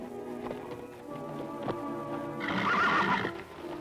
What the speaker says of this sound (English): Is Fury your horse?